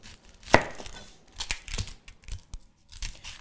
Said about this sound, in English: let's cut some onion